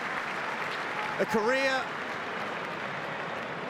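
Crowd at the Sydney Cricket Ground applauding a retiring Test cricketer walking off, steady broadband clapping throughout with a commentator speaking briefly over it.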